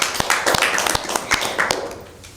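Applause for team B at a Bible quiz: a burst of sharp, uneven hand claps from a small group, close and lively, gradually thinning toward the end.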